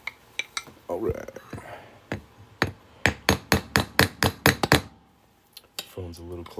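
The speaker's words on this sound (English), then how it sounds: "hammer a hole through it." Metal hammer strikes ring out sharply as a hammer punches a hole through a Georgia quarter coin, first a few scattered blows, then a fast run of about ten evenly spaced hits before stopping.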